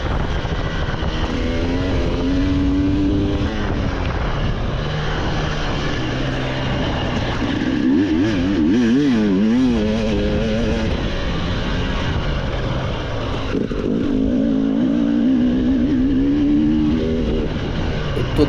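Motocross motorcycle engine held at full throttle on a dirt track among ravines near Bohuslav, a loud, close, continuous roar whose pitch climbs and dips with gear changes and throttle.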